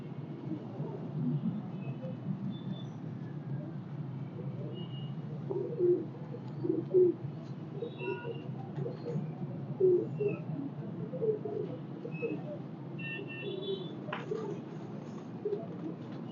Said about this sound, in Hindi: ये कबूतर है जी, टैडी कबूतर है